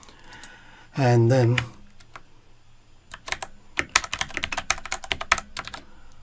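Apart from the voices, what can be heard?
typing on a computer keyboard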